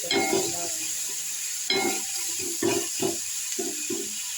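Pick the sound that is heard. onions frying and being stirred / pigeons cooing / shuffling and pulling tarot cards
onions frying and being stirred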